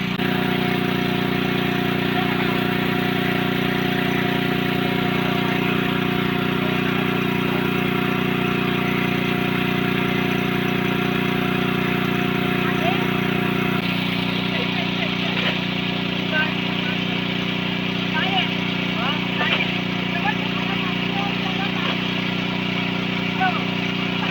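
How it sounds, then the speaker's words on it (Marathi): A motor pump runs steadily to draw water out of a pool during crab and fish catching in the Konkan, its even mechanical drone loud and constant, shifting slightly in tone partway through, with faint ticking and splashing over it. "ह्या साईडला मोटार पण लावलेली आहे"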